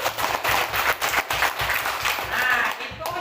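Primary school children in a classroom clap their hands together in loud, rapid, uneven bursts, a dense rhythmic patter of many small hands filling the room from start to finish.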